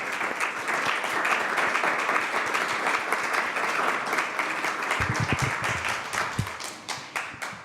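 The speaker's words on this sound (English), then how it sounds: "if we could give Dr. Tucker a round of applause." A seated audience at a health equity film and panel event gives a sustained round of applause, dense clapping throughout that thins into a few scattered claps near the end.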